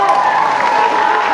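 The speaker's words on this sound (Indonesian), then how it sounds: "Tepuk tangan buat Mbak Caca ya" An audience at a school religious gathering claps together, a dense, continuous patter of many hands applauding loudly and close by, with no break over the short stretch.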